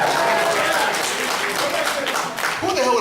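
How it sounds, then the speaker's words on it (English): Audience at a New York Comic Con 2010 convention panel applauding, a steady wash of clapping mixed with crowd murmur and voices that fills the whole stretch at a fairly loud level. "Who the hell would applaud for Jersey?"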